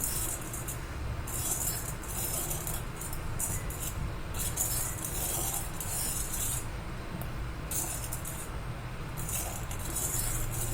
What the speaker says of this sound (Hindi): तो उसको आप धीरे धीरे चलाते भी रहिए, स्टर करते रहिए बीच बीच में